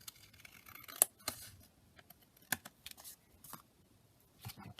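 Scissors snip a torn paper edge to trim an ephemera foldout, making a few sharp, quiet cuts spaced irregularly, with faint rustling of paper in between.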